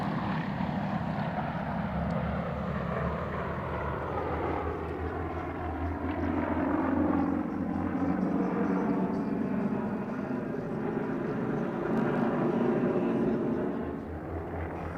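An aerobatic propeller aircraft flies overhead at an air show, its engine droning steadily and rising then falling in pitch as it passes at a distance, with a voice talking underneath.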